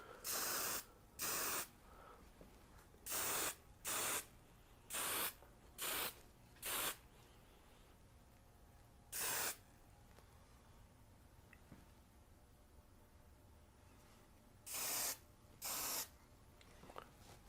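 Short aerosol bursts of Varathane clearcoat are sprayed onto a pinball playfield, about ten hissing blasts of roughly half a second each, irregularly spaced with quiet gaps between them, close and fairly loud.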